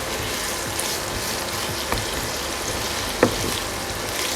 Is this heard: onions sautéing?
yes